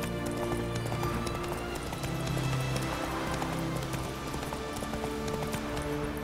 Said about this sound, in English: Run, Roach. Run, Roach.